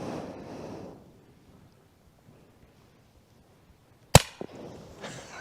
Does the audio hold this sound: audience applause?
no